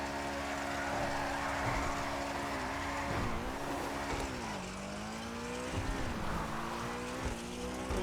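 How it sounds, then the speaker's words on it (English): All-wheel-drive car drifting in GTA V Online, engine droning steadily with pitch bending up and down as tires squeal and skid through the slide, loud and continuous without talk. "that's how you drift an all-wheel drive car."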